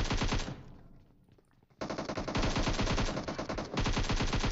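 Bursts of automatic gunfire during a PUBG Mobile match, loud rapid shots firing close, then a short lull before long sustained sprays resume, with no voices.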